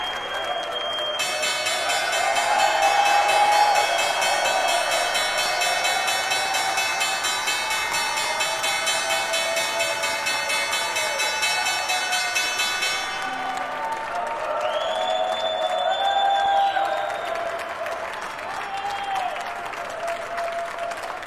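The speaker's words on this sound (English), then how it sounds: "Trump just yesterday ringing the bell at the New York Stock Exchange" The opening bell rings as one sustained, unbroken electric tone for about twelve seconds on the New York Stock Exchange floor. Loud crowd applause and cheering carry on beneath it and continue after the bell stops.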